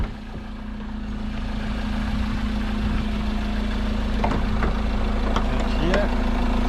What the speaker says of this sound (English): Engine's running to bring it up to temperature.